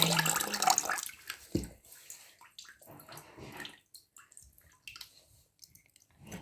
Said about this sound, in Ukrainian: Тримаємо і заливаємо всю воду.